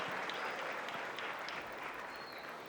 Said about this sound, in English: How about one more round of applause for our elementary principals?